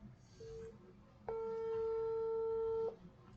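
A WhatsApp outgoing call ringing tone, a short faint beep followed by a longer steady electronic tone, heard alone and fairly quiet.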